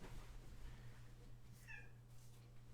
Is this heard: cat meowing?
yes